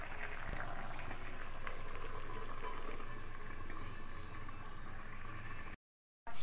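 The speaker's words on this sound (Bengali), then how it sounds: "ঝোলটা আমার ফুটে গিয়েছে" Pabda fish curry gravy boiling under a lid, a dense steady bubbling hiss that runs continuously, then cuts out briefly near the end, with no talk.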